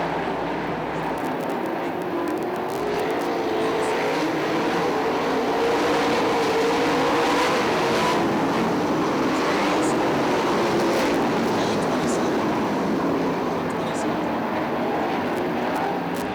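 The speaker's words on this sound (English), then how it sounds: "Green black on the speedway as Dale Blaney sets sails with a clear track now." 410 winged sprint cars racing around Fremont Speedway, a continuous loud engine roar that swells and shifts as the pack passes, with crowd and track ambience beneath.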